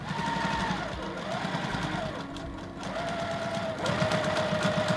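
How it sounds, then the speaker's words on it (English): Sewing machine stitching a quilt binding seam, running steadily with a fast mechanical whir and rhythmic needle clatter, close and fairly loud, easing briefly in the middle before picking back up. "I'm going to finish off sewing this seam."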